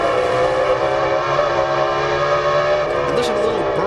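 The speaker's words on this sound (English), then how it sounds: "listen to a little burst of RPM out of the engine" A NASCAR race car at the 2004 Sharpie 500 gives a sharp, loud burst of engine RPM, a dense high whine that surges and dips, with commentary over it.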